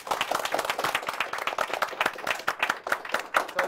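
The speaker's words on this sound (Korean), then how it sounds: "여러분들 수고해주신 MC분들한테 박수 부탁드립니다" An audience at a venture startup forum talk claps for the event's MCs, a lively run of distinct, fairly close hand claps that stays steady for a few seconds.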